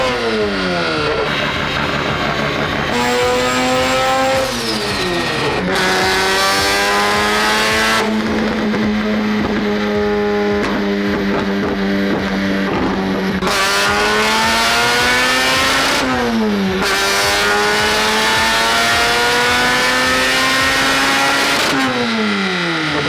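Rotary-swapped Mazda Miata engine revving hard and loud, its pitch climbing and falling across repeated throttle blips and sustained pulls, close by.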